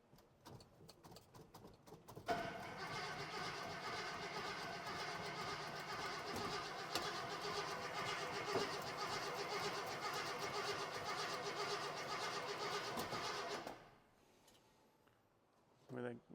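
A 1970 International 1000 pickup engine cranks briefly, then catches and runs at a steady loud idle for about eleven seconds before cutting off, leaving quiet background noise.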